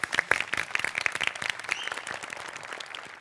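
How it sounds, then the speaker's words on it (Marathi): An audience at a Marathi comedy show claps steadily, a dense patter of hands with a few louder early claps, fading slightly toward the end. "टाळ्या."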